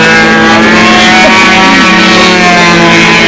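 A glow or nitro engine on a Seafire model airplane runs lean at high, constant revs, a loud, harsh, buzzing drone close by with no letup for the whole stretch.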